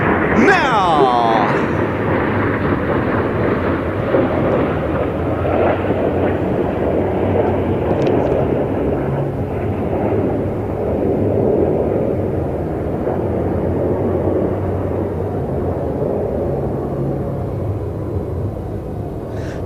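Aerobatic jet aircraft flying a solo display at an air show, a loud continuous engine roar with a sharp rising whine near the start, sustained throughout.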